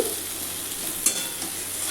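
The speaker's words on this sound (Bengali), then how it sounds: "আবার লবণ দেব দিয়ে এ ভালো করে ভেজে নিতে হবে খুবই ভালো করে ভাজা ভাজা করতে হবে" Cauliflower fries in a pan with turmeric and salt, making a steady, close sizzle with one brief clink of stirring midway.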